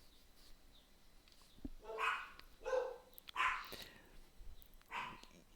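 Dogs bark in four or five distinct, spaced yaps at moderate distance over a quiet background, each bark short and sharp.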